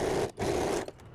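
A sewing machine stitches the open side of a newborn baby cap closed, running in two steady bursts of close, mechanical whirring separated by a brief pause and then tapering off.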